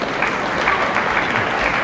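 Snooker crowd at the 1997 Masters applauding, a steady dense wash of clapping that holds evenly throughout without breaks.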